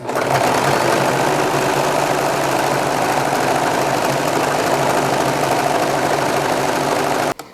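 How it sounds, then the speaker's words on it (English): A serger runs steadily while sewing a rolled hem along a napkin corner, a loud continuous mechanical whir with a fast rhythmic hum that holds for about seven seconds before stopping abruptly. "Lower your presser foot and make sure that you position your corners so that way the needle starts right at the top, and start serging again."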